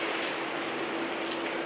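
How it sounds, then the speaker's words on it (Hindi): Heavy rain pours steadily, a dense, loud hiss of drops drumming on surfaces with no pause. "बारिश तेज हो रही है।"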